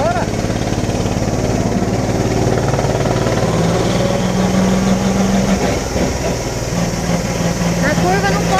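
A go-kart-style amusement park ride vehicle on a track at a Japanese water and theme park, with its engine droning loudly up close and revving as it speeds up. Voices talk over it.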